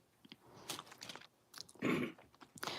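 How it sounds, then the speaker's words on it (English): Quiet, close-up chewing of food: soft crunches and bites in an uneven rhythm, with a louder crunchy burst in the middle and no talk. "We'll finish chewing this."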